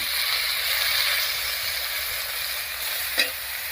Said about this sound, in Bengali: এবার একটু মশলা বাটা জল দিয়ে কষিয়ে নেব